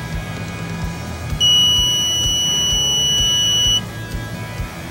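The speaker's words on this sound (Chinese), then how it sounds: "按下蜂鸣器的图示时，树莓派的蜂鸣器就会听到现在这个声音" A Raspberry Pi buzzer, triggered from a Bluetooth phone app, gives one steady high-pitched electronic tone lasting about two and a half seconds, loud and close over faint background noise.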